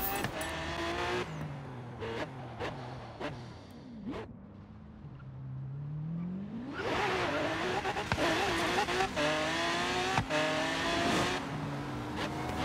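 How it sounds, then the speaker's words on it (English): Exhaust of a 2011 Lamborghini Gallardo LP 570-4 Superleggera in Forza Horizon 3: the engine revs up and down through several gear changes, drops to a low idle, then climbs into a sustained, loud acceleration. "Exhaust though. That's why I like this car so much. Perfect sound, perfect hand."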